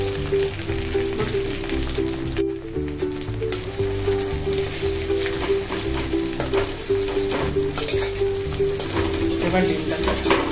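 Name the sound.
frying eggs in white oil in a wok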